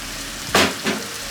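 Eggs and vegetables frying in a pan, a steady close sizzle with two short louder hissing surges as food is stirred or added.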